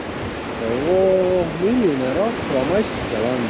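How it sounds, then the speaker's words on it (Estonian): Surf breaking on a Gran Canaria beach with waves about two meters high, a steady close roar of rushing water under someone talking nearby. "Vaata, millised lained, see on nagu suht 2-meetrised lained."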